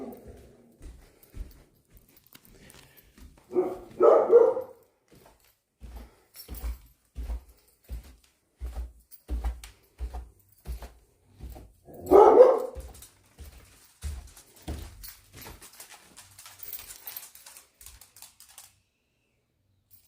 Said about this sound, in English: Oh, you should see all the dogs we have here.